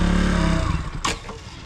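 A KTM Duke 200 motorcycle rides over rocky hills with a loud, close engine drone that fades midway, followed by a brief bump or rattle and wind noise.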